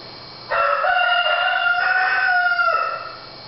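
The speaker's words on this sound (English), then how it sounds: "I'm annoyed by the rooster." A rooster crows once, a loud, close cock-a-doodle-doo lasting about two and a half seconds with a clear rising and falling tone, heard alone without talk.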